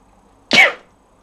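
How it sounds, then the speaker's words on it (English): A single sharp sneeze from an adult bursts out close and loud during a paper-crafting session, then fades quickly into quiet. "And I'm going to sneeze, excuse me."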